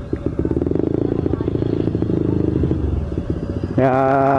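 A rebuilt Yamaha Aerox scooter engine runs with a fast, steady idle throb, close and loud, then revs up into a higher, strained whine near the end, with some background clatter and talk.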